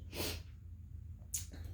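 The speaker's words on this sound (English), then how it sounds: "Or if you just sneezed" A single sharp sneeze, close and loud, followed after a pause by a quick breathy snort or sniff.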